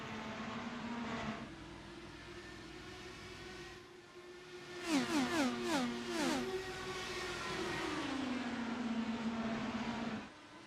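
IndyCar race cars on the Milwaukee Mile oval in a racing video game, a steady high engine whine with several cars rapidly passing in a Doppler sweep, then one engine holding on alone.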